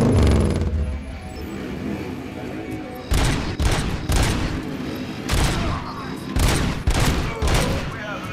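Bursts of gunfire from the RoboCop Rogue City video game, with heavy volleys and repeated shots in rapid clusters over a dense, loud game soundtrack.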